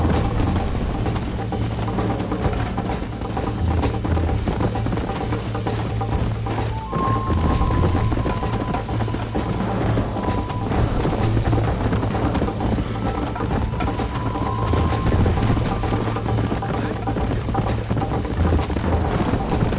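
Hooves pound at a full gallop during a horse race in the Red Dead Redemption video game, a loud, rapid, unbroken clip-clop rhythm that runs the whole stretch amid a busy game mix with occasional mechanical rattles.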